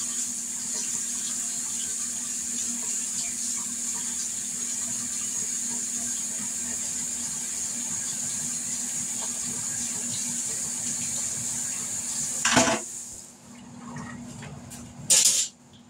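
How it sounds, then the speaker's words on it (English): A hot metal jelly stirrer is rinsed under a running kitchen tap, a steady rushing flow heard close and alone. Near the end a couple of sharp clattering knocks break in. "Rinse it off a little bit while it's still hot."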